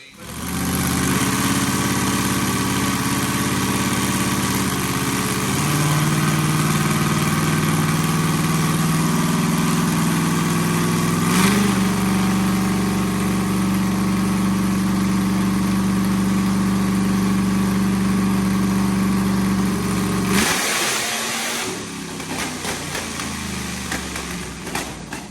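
A late model dirt car engine with an R block idles steadily, its rumble shifting in pitch as it revs up partway, then drops off abruptly near the end, loud and close throughout.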